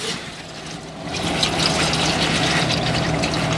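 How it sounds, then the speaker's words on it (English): Hot engine oil from a 2018 Honda Odyssey pouring into a drain pan, a close, steady splashing gush that grows fuller and louder after the first second and then holds constant. "there comes the hot oil. So there we go, right in the pan"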